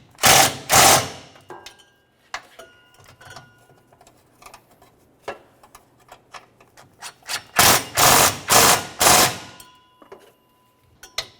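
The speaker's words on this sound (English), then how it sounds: "We'll tighten the nuts with a 13 from the bottom." Hand wrench tightening the rear shock mounting nuts on a 2001-2005 Ford Explorer Sport Trac, heard as bursts of rapid ratcheting clicks with sparse ticks between them, close and fairly loud.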